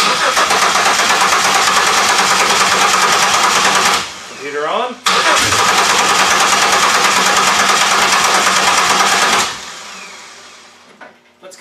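A GM 3100 V6 swapped into a Toyota Camry fires up for the first time and roars loudly and close, stalls, restarts moments later, runs hard, then dies away. Someone speaks briefly over it.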